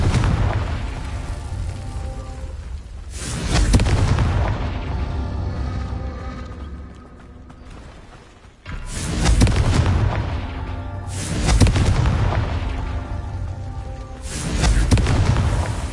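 Confringo blasting spells from Hogwarts Legacy set off heavy booming explosions, four or five deep blasts in irregular succession, each rumbling and decaying before the next, loud and close.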